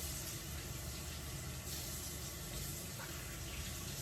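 Produce being rinsed under a running kitchen tap, a steady broadband rush of water splashing into a sink that holds unbroken for several seconds, fairly close and loud, with no talk over it.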